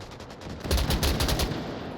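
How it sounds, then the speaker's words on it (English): Gunfire in a gunfight inside the Onward VR shooter, a short cluster of rapid shots bursting out mid-clip and tailing off, fairly loud with no talking over it. "Gunfight going on here"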